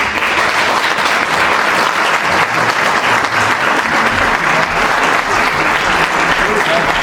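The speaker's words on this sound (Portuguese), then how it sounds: "somos nós os atores que te aplaudem, José!" A theatre audience gives loud, dense, continuous applause for José Saramago that fills the whole stretch without a break, with a few voices mixed into the clapping.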